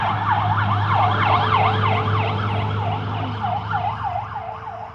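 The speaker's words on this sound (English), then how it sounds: "Hold on. Sirens." Emergency vehicle sirens wail, rising and falling in repeated sweeps over a low engine rumble, loud at first and slowly fading as the vehicles move past.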